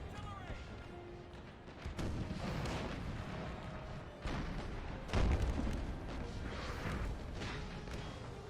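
Sustained artillery fire in an American Civil War video game battle, with repeated booms and crashes rolling over a dense, continuous din of battle; a voice talks over the barrage.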